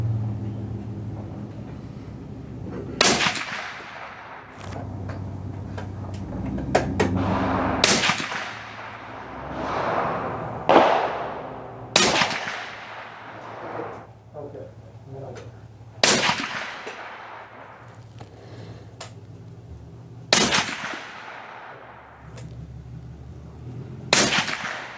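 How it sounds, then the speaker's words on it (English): A Browning AB3 rifle in .300 Win Mag fires at an outdoor range, about six loud, sharp reports spaced several seconds apart, each with a booming decay, over a low background rumble. "Me at the range today with the Browning AB3 budget-friendly 300 Win Mag"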